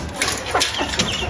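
A pet rooster in a small backyard bird setup gives a few short clucks close by, brief bursts over a steady background hum.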